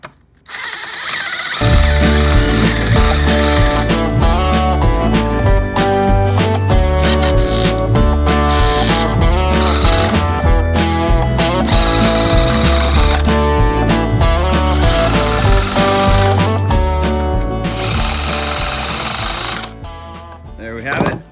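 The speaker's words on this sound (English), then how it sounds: "then we're just gonna screw it in" A power drill drives screws to join the legs of a cheap workbench built from pallet wood. Loud, close whining bursts repeat over about twenty seconds, with the motor pitch rising and falling.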